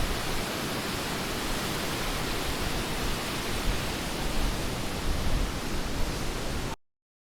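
The Merced River flowing under a footbridge in Yosemite, a loud, dense, steady roar of rushing water that cuts off abruptly near the end, with no talking.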